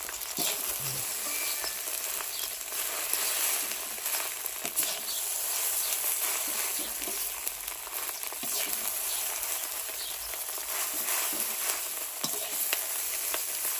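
Fried rice with freshly picked kale shoots being stir-fried in a pan, a steady loud sizzle with scraping and stirring strokes running throughout, with no talking.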